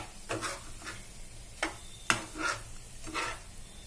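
A spoon stirring potato fry in a pan of oil with green chillies, making about seven scraping strokes and taps over a soft continuous sizzle, with no voices.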